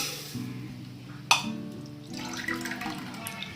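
About one and a half cups of water poured into a pan of sugar on a gas stove to make syrup, a short splashing pour with a sharp clink, close and without talk.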